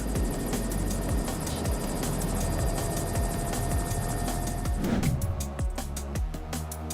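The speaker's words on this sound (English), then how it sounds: "Dramatic footage of an S-64 Skycrane firefighting helicopter at work over a forest in Canada." A large Sikorsky S-64 Skycrane firefighting helicopter's rotor thumps steadily and loudly over a forest, a continuous heavy beat with engine whine, shifting slightly as it moves.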